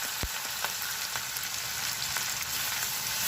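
Finely chopped ginger added to hot oil with mustard seeds for Mumbai vada pav, giving a steady close sizzle with a few light pops and stirring scrapes, no talk.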